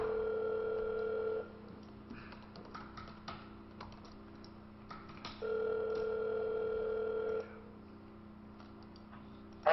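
An outgoing telephone call rings out with two long ringback tones separated by a pause, close and steady, while a computer keyboard clicks softly underneath.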